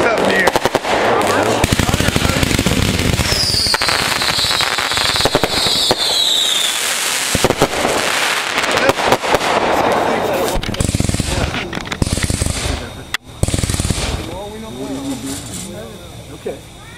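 Consumer fireworks cake firing a long rapid barrage of shots, dense crackling bursts and whistling rising streaks for over fifteen seconds, loud and fairly close outdoors, with people talking faintly underneath.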